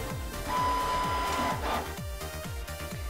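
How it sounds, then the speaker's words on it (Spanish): A Canon TS3110 inkjet printer works through a print job sent from a phone, giving a quiet mechanical whir with a steady repeating pulse of the feed and print head, heard alone. "la impresora está comenzando a trabajar"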